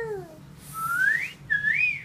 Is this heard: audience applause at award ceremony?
no